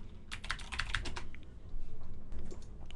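Rapid typing on a computer keyboard as folder names are entered, a quick cluster of soft clicks, a brief pause, then another burst of keystrokes, close and fairly quiet.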